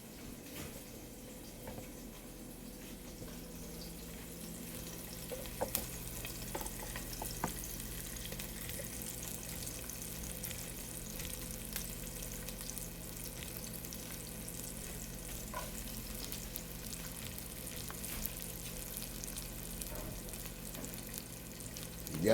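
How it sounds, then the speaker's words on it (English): Onions dropped into hot grease on a stovetop, cooking chili, give a steady close sizzle and crackle that runs the whole time, with small pops and stirring sounds and no talking. "I'm going to go ahead on and put them in this grease."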